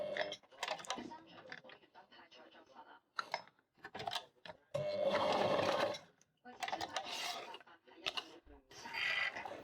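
Sewing machine stitching a small leather wallet, its whirring bursts coming in short separate runs mixed with clicks and handling noises, with speech heard at times between them.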